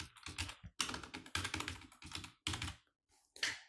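Card details being typed on a computer keyboard, with bursts of quick key taps separated by short pauses, close and fairly quiet with no talk.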